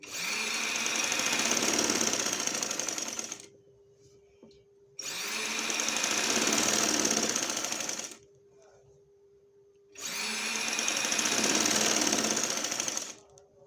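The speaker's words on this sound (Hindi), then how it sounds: "अभी मैं आपको सारी कंप्लीट जो है वो सिलाई इसकी लगा के दिखाऊंगी।" A sewing machine stitches the inner seam of cord piping on fabric in three loud, steady runs of several seconds each, separated by quiet pauses while the cloth is repositioned.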